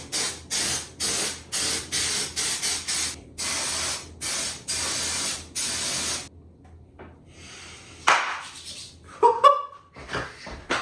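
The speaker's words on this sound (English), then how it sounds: "Almost forgot to spray it with the mold release." Mold release sprayed onto a polyurethane casting mold in several loud, close hissing bursts of about half a second each, then quieter handling noises and a few sharp knocks.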